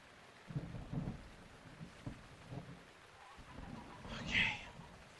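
A lightning storm in The Legend of Zelda: Breath of the Wild, with rain noise and a couple of low thunder rumbles early on, then a brief bright crackle near the end, moderately loud with no talk.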